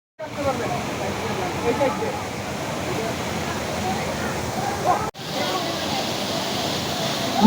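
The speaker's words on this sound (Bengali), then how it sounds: "ঝর্ণাটা আমার কাছে ভয়ঙ্কর সুন্দরের মতো অনেক সুন্দর প্লাস ভয়ঙ্কর অনেক অনেক পানি পড়ছিল" A powerful waterfall pours heavy volumes of water down, a steady loud roaring rush that fills the whole scene, cutting out briefly for a moment before resuming.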